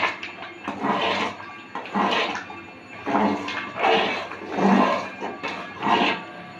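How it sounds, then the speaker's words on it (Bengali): Mutton khichuri boiling hard in a pot on a gas flame, with loud surging bubbling and gurgling in repeated waves roughly every second, close up with no talk. "দেখুন 1 মিনিট জোরে আমি ফুটিয়ে নিচ্ছি।"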